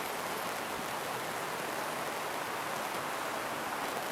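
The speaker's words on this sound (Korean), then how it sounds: "비가 너무 와서 제 목소리가 들어갈지는 모르겠네요" Heavy downpour drumming on an air tent outdoors, a dense, steady hiss that stays loud and unbroken throughout, with no voices.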